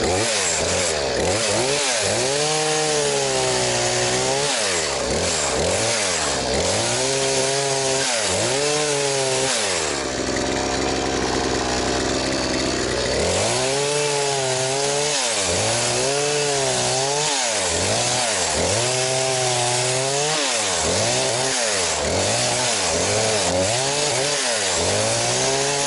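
A Champion gasoline chainsaw cutting a birch tree that hangs across a river, loud and close, its engine revving up and down repeatedly with a short idle stretch in the middle, no talk.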